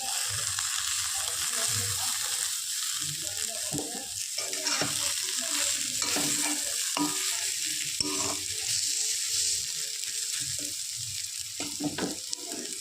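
A fish-oil chachchari fries in a pan as chopped coriander leaves are stirred in, a steady oily sizzle broken by irregular scraping and clinking of the spoon against the pan, close and without talk.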